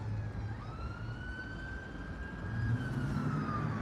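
An ambulance siren sounds in a Blackpool street, a loud, sustained wailing tone that holds steady then drops in pitch as it passes, over a low rumble of traffic.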